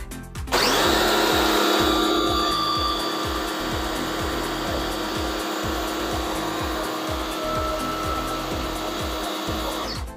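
An Autopramie AP-JC8000 jet cleaner pressure washer starts up and runs steadily at close range, a loud continuous motor drone with a rapid rhythmic low pulsing from the pump throughout.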